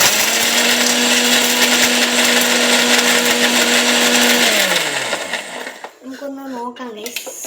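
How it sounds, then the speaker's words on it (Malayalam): A kitchen mixer grinder whirs loudly at a steady pitch, grinding Oreo biscuits into powder, then spins down and stops, followed by the clatter of the jar and a voice speaking up close. "മിക്സിക്കകത്തോട്ടിട്ടിട്ട് നല്ല വൃത്തിക്ക് അടിച്ചു കൊടുക്കണം"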